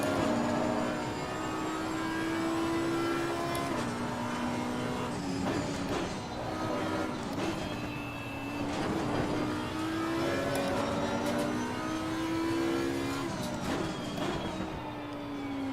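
GT3 race cars lapping in Assetto Corsa Competizione, engines droning and shifting pitch as they rev and change gear, with bumps and thuds as the cars ride over curbs, loud and continuous without talk.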